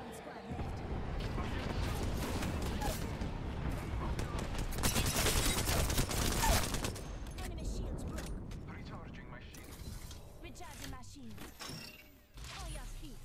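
Airstrike in Apex Legends, a sustained barrage of dense explosive blasts and gunfire swelling in the middle and trailing off, with voices talking over it.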